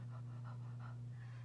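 A narrator imitates a dog's panting while reading a children's story aloud, giving several soft, rhythmic breathy pants in a row over a steady low hum, close to the microphone.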